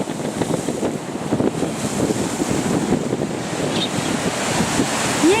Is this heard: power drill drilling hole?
no